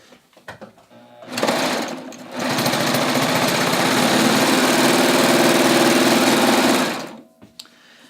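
A serger stitching through a double layer of fabric, starting with a brief burst, then running in one long steady high-pitched whir before stopping, close and loud with no talking.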